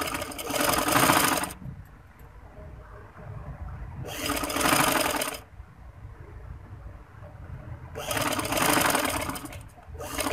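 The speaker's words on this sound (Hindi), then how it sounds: "यहाँ पर थोड़ा सा हम पक्का कर लेंगे ताकि मजबूती हो जाए।" Domestic sewing machine stitching the seams of a handkerchief-cut frock, running in three loud bursts of about one and a half seconds each, separated by quieter pauses with faint background hum.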